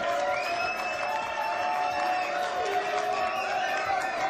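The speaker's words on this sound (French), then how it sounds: "Applaudissements s'il vous plaît, merci." Studio audience applause and cheering on a French television show, a dense continuous crowd roar with clapping and whoops, loud and sustained, with a voice speaking over it.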